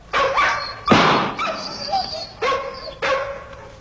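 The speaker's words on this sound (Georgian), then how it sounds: "გაჩერდი ძაღლი" A dog barks close by in a series of sharp, loud barks with short pauses between them, some shading into whiny yips.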